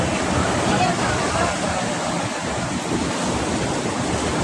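Seawater surges into a coastal fishing village at night, heard as a steady, loud rush of churning water and wind noise with no break throughout.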